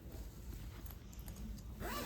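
Zipper on a shoulder bag pocket being pulled, close and quiet, with a short scratchy zip ending in a brighter rasping stroke.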